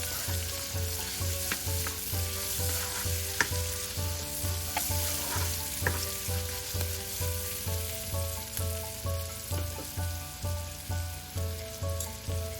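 Onion, crushed garlic and ginger, and turmeric frying in a pan for asparagus curry, giving a steady, close sizzle with a rhythmic musical backing and no talk.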